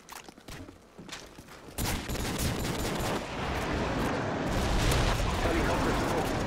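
Call of Duty 4 airstrike explosions rumble in dense, booming bursts that swell into a continuous loud roar of blasts and gunfire after a quieter opening with scattered shots.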